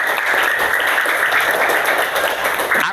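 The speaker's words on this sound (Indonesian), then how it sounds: "tepuk tangan" Fifth-grade schoolchildren applaud together in a classroom, a dense, steady patter of clapping hands that lasts throughout at close range.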